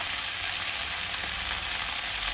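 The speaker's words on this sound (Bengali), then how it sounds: "পোড়া পোড়া করে ভাজবেন" Chicken shashlik sticks fry in hot oil with a dense, loud, unbroken sizzle and crackle close up throughout.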